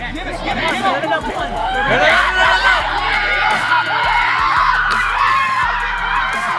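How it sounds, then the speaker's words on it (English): A crowd cheers at a survival-style challenge competition, with loud overlapping shouts, whoops and yells forming a continuous, energetic roar close by and showing no pause across the stretch. "People are cheering."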